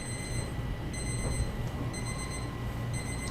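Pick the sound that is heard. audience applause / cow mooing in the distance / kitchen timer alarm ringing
kitchen timer alarm ringing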